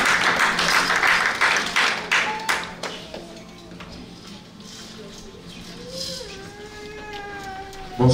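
Church conference audience applauding to welcome a pastor on stage, dense clapping that tapers off within a few seconds, followed by quieter sounds and a voice over a sustained tone.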